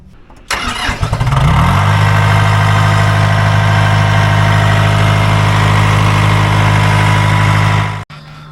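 An old Ford diesel tractor that has sat for years cranks and fires, then settles into a loud, steady idle with a strong low rumble before cutting off abruptly near the end.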